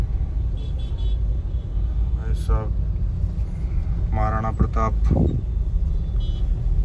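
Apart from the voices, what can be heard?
road traffic with cars and horns during Diwali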